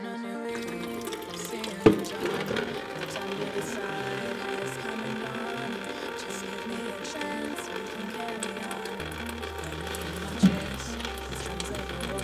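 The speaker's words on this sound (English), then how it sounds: "Basically, just put a bucket underneath it, unscrew it, let all the fluid drain." Engine coolant drains from the plastic drain plug of a BMW E36 M3 radiator into a bucket, a steady watery trickle running throughout with a few sharp knocks.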